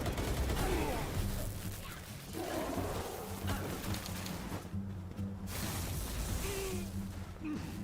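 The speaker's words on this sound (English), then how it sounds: "It's like they just want to take me out in a hail of gunfire." Enemy gunfire in the video game Palworld, a sustained, dense hail of shots and impacts rattling on for several seconds at a steady, moderately loud level, mixed with game effects and no talk.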